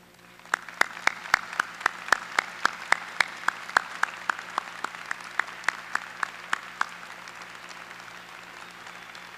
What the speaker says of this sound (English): so we can all give him a round of applause